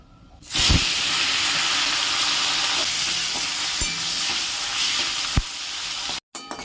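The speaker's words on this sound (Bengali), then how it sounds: "আজকে আমরা এই শুটকিটা এনেছি, মা ভেজে নেবে" Cleaned dried fish (shutki) fries in a hot pan with a loud, steady hiss and sizzle that runs nearly unbroken for several seconds, broken by a few stirring knocks and a brief gap near the end.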